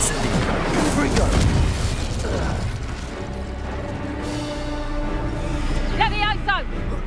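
Confringo explosive spell blasts in the Hogwarts Legacy video game, heavy booming bursts and mechanical rumble amid combat effects, with a voice shouting spell names over the din.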